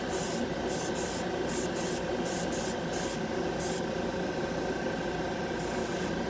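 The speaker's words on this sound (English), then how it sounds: "I'm blow drying it so you guys can see. Even the compressor just kicked in." A compressor hums steadily beneath repeated bursts of air from an airbrush or blow dryer, each spray lasting a fraction of a second in an irregular rhythm, drying freshly airbrushed Testors enamel paint.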